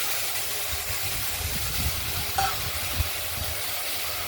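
Sliced okra frying in a pan as mustard-poppy paste is added, a steady close sizzle with low bubbling and a few soft clinks and scrapes, continuous and fairly loud, with no talking.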